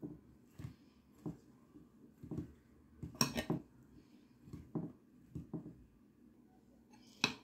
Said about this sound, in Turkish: tüm malzememizi şöyle bir kaşığımız yardımıyla tüm sebzelerimizi karıştırıyoruz